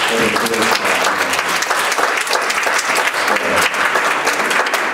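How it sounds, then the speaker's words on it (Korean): A church congregation applauds after a Christmas performance by a band, loud and sustained clapping that fills the room evenly, with faint voices mixed in. "우리 하나님께 영광의 박수를 드리겠습니다."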